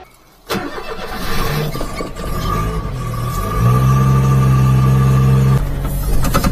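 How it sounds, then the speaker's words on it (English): A mini truck engine warming up with a newly fitted tailpipe, starting with a sudden rumble and then settling into a steady, close idle whose pitch lifts slightly partway through before easing back. "Come on, motor rider, let me warm it up."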